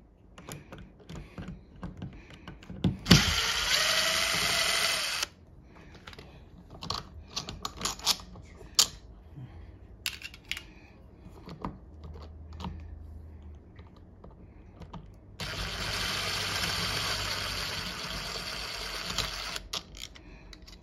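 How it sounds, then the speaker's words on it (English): Screws come out of a Defiant smart WiFi fingerprint deadbolt lock: two loud stretches of whirring driver noise frame a run of sharp clicks and small metallic taps in between. "I'm just gonna go ahead and remove those 2 screws."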